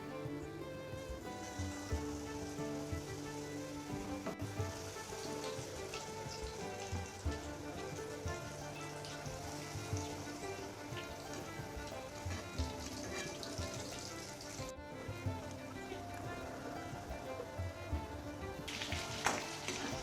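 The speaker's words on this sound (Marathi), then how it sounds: "आपण आता त्याच्यामध्ये हे वडे टाकून घेणार आहोत" Vada for Mumbai vada pav fry in hot oil, giving a steady, dense sizzle and crackle that runs unbroken throughout, close by and without any talk.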